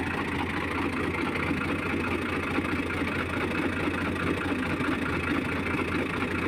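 Steady, continuous engine drone of a tractor running at a constant idle, loud and even throughout with no change in pitch and no talking.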